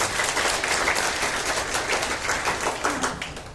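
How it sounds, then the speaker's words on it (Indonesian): An audience at a Prudential event breaks into dense, continuous applause, many hands clapping at once and close by, holding steady for a few seconds. "Tepuk tangan dong buat Prudential"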